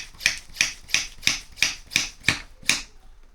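Hand pump drawing air out of a plastic vacuum storage bag for packing a suitcase, seven evenly spaced rhythmic strokes of hissing, rasping air, close and fairly loud, with no voices.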